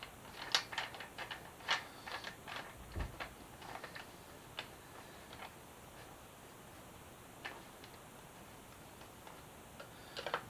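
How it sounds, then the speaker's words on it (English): A hand ratchet clicks in quick, close bursts of ticks while tightening a bolt for a carbon frame slider on a Yamaha FZ6R motorcycle, with quieter pauses between the bursts. "we are going to bolt this into our mounting offset"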